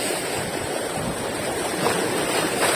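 Big ocean waves surge and break along a rocky Paoay shoreline where anglers fish, a loud, continuous roaring wash with gusty wind and no speech.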